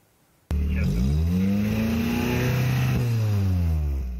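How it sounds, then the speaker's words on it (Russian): A car engine roars to life and revs hard with a loud, rumbling modified exhaust at night in Kazan, pitch rising and falling, sustained and close. "нарушение спокойствия любителями громкого выхлопа, особенно по ночам"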